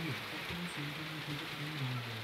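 Heavy rain falls steadily as a dense, even hiss that holds for a couple of seconds, with a faint low voice murmuring underneath.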